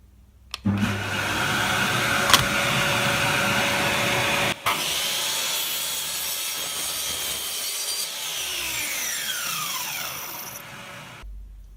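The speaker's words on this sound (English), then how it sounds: "Got the first of our frame sections in the miter saw." A miter saw spins up, bites into a wooden frame section resting on a scrap of sacrificial wood, and cuts with a loud, sustained whine for about ten seconds before switching off and winding down.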